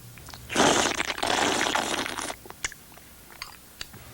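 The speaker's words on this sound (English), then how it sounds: "The sound is slurping soup" Someone slurps soup with noodles in one long, noisy pull lasting about two seconds, followed by a few small wet clicks and smacks.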